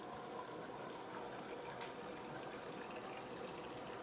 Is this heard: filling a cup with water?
yes